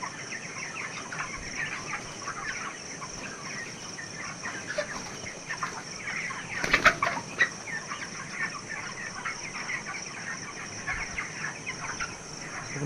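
Chickens in a poultry farm cluck continuously in a dense, busy chorus, with a short louder burst of flapping and squawking midway through.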